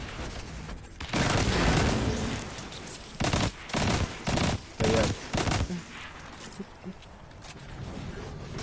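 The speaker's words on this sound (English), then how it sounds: "I'm just gonna be running the pulse rifle." A pulse rifle fires in the video game Destiny 2 in repeated short bursts, several tightly spaced volleys of sharp gunshots with brief pauses between them, over quieter game ambience.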